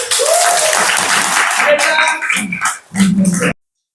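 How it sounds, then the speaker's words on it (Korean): Crowd clapping at a political rally and thanksgiving worship service, loud sustained applause mixed with cheering voices for about three seconds before cutting off. "김문수를 세우신 하나님께 박수 한번"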